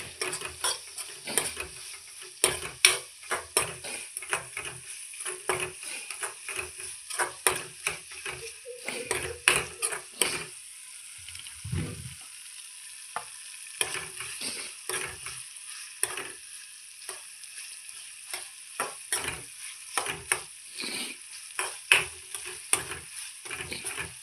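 Egg and tomato being stirred and fried in a pan in a village kitchen, repeated scraping and clinking of a utensil against the pan over a soft sizzle, in irregular bursts with brief pauses.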